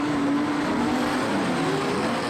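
Modified sedan race cars roar around the Lismore Speedway in a National Title A-Main, a loud, continuous engine drone with shifting pitch as the cars push into a turn.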